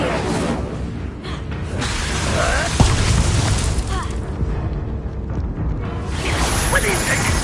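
Incendio fire spell cast in Hogwarts Legacy, a whooshing burst of flame with a booming impact amid ongoing combat rumble and a speaking voice.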